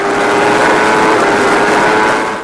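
A 1000cc motorcycle ridden hard at speed around the Cadwell Park circuit, its engine drone blended with a loud, steady rush of wind that holds constant throughout without letting up.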